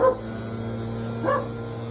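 Two short dog barks, one at the start and another about a second later, sound somewhat distant over a steady low hum.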